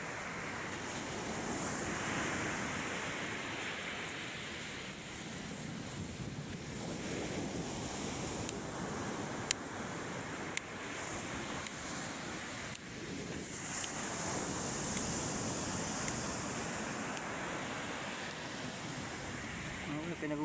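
Big waves crash against large rocks on a windy shore, a constant roaring surf mixed with strong gusts buffeting the microphone, with a louder surge near the end.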